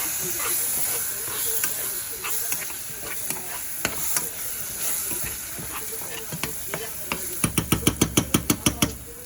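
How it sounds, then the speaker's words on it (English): A pot of sambar being stirred in a kitchen, with soft scraping and clinking taps against the pot, speeding into a quick run of regular knocks near the end over a faint steady hiss. "so now I have to stir it really well"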